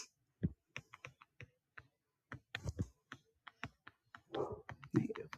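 Keys tapped on a computer keyboard in short irregular bursts, crisp clicks fairly close with brief pauses and a faint voice in the background.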